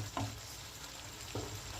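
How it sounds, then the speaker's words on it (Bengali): Chicken being slowly sautéed in a pan while cooking chicken kanti, giving a steady soft sizzle with two brief scrapes of stirring, close and alone. "চিকেনটা বেশ খানিকক্ষণ কষিয়ে নেবার পর"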